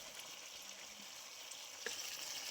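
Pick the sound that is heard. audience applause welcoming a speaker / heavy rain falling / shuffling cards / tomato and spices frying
tomato and spices frying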